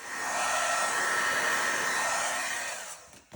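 A heat gun blows a steady, loud airy whoosh for about three seconds while heat-setting pink embossing powder on a stamped card, then cuts off with small handling clicks.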